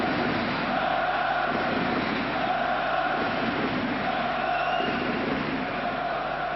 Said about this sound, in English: An excellent crowd here in Munich, enjoying every minute of this